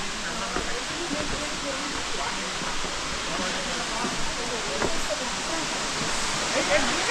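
Elephant Falls waterfall in Meghalaya, a broad, steady rushing roar of falling water heard continuously at moderate level, with people's voices faintly underneath.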